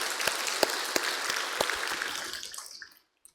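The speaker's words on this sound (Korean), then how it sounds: "이렇게 주의 교회를 잘 지켜올 수 있도록 은혜 베푸신 하나님 앞에 우리 영광의 박수를 돌리십시다" Church congregation applauding during a Sunday morning service, a dense burst of clapping from many hands that fades out near the end, moderately distant.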